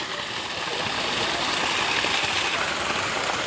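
Fresh spring water pours strongly at the Si Batu-Batu spring near Pematang Siantar, a loud, close, continuous rushing splash with no voices.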